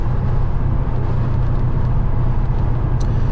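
A 1995 Chevrolet Corvette C4 cruising at steady freeway speed, with a loud, constant low engine drone and road roar filling the cabin throughout, no voices.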